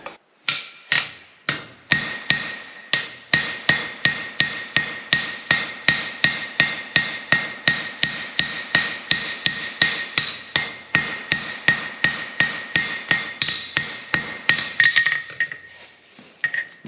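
Hot steel struck on an anvil while forging bolt jaw tongs: a long, regular series of loud, ringing hammer blows, about two per second, close by and unbroken by speech.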